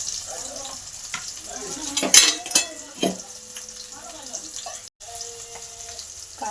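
Chopped onions sizzle and fry in hot oil, with spoon scrapes and stirring clatter around the middle; a voice speaks briefly over the cooking. Part of a Maharashtrian kheema preparation.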